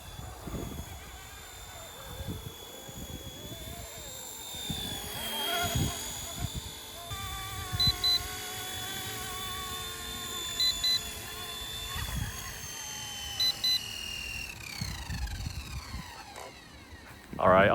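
RC Era C189 MD500 model helicopter flying in windy weather, a continuous high-pitched electric rotor whine that rises and falls as it maneuvers, with wind buffeting and occasional bursts of talk underneath.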